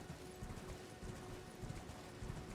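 Horse hooves clip-clop in the video game Elden Ring, a faint, steady rhythmic trot heard under a constant wash of ambient game noise, with no talking.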